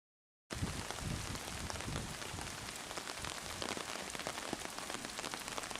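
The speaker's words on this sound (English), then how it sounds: "The rain finally let up a little" Rain at Tomoka State Park patters steadily and densely on surfaces, a close, continuous hiss with scattered individual drops that starts abruptly and runs unbroken to the end.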